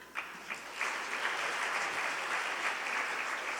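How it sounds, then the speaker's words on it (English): An audience at a senior awards ceremony gives sustained applause for an honoree, with a few sharp claps at the start swelling into an even, continuous clapping. "I appreciate the applause"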